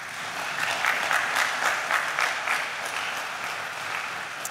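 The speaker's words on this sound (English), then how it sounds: "Let's give them a round of applause." A church congregation applauds to welcome newcomers, a steady wash of many hands clapping at moderate volume for several seconds, alone without talk.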